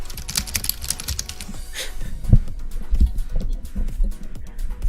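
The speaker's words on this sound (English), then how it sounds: "You can hear my keyboard, nice." Computer keyboard typed on rapidly a few inches from the microphone, a dense run of close, loud clicking keystrokes with a few heavier thumps, alone without talk.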